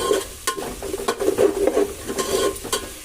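A spoon stirs mutton biryani masala frying in a pot, giving steady scraping strokes over a soft continuous sizzle with occasional clinks against the metal. The sounds are close and there is no talk.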